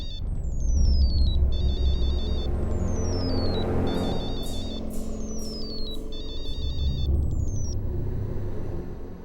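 A phone rings in a room with repeated bright electronic ringtone bursts, loud and near, over a steady low rumble of background noise.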